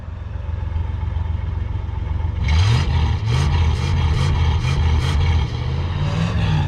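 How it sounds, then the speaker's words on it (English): Ford 289 V8 in a 1967 Ford Galaxie 500 after a top-end rebuild, idling roughly and then blipped through a series of sharp revs, about six quick throttle bursts over a rumbling idle. "Give it some gas"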